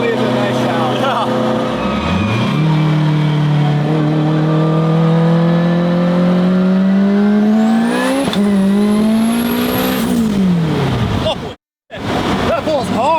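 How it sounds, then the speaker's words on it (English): A 1000 hp all-wheel-drive supercar with straight-cut gears accelerates hard from inside, engine note climbing steeply through the gears with a whining gear tone, a shift, then another rising pull before a brief cut; voices talk faintly underneath. "I love the sound of the straight cut gears."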